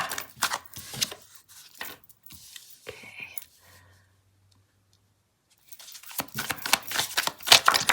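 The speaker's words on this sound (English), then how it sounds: "The way I do my readings is I shuffle till one card falls out" Tarot cards shuffled in quick rustling bursts, close by, with a quiet pause in the middle before the brisk riffling resumes.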